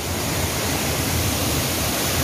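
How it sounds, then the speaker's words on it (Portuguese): Water rushing down the Puxa Nervos waterfall in Tibagi, Paraná, a steady, dense roar of falling water heard close, continuous and unbroken with no voices. "Ó, água descendo."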